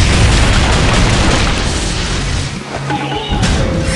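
Endurance Cannon in the Outerplane game, firing and exploding as one huge, sustained boom that fills the clip, loud and close, then rumbles and fades before a final flare of blast noise.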